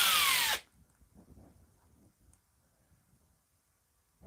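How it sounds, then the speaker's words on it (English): A brief burst of a power drill whirring at high speed, stopping abruptly, then quiet shuffling and faint handling noises. "We're going to be drilling today. I hope it's not too loud."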